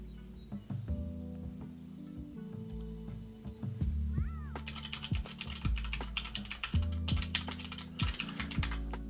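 A cat meows faintly in a quiet room while computer keyboard typing clicks steadily close by, the meows brief and soft beneath the tapping.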